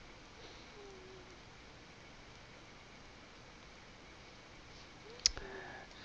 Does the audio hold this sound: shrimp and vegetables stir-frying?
no